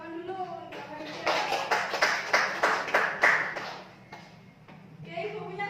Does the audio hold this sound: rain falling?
no